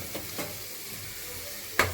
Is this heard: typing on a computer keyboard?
no